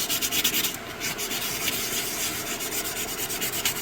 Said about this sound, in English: 3M sanding paper, nothing special.